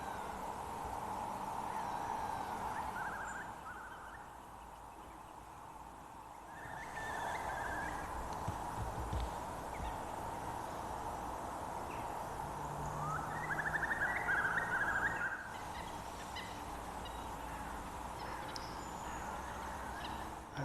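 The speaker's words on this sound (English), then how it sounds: "It's lovely hearing the sounds of the salt marsh and wading birds along the River Tor." Salt marsh ambience along the River Torridge, with faint, distant calls of wading birds and geese over a constant low background wash, quiet throughout.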